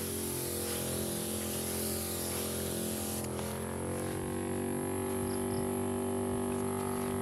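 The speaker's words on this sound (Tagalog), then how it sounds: "nag-i-spray ako ngayon" Herbicide is sprayed onto weeds in an eggplant field on a late afternoon, giving a continuous hiss with a steady hum beneath, close and unbroken, with no voices.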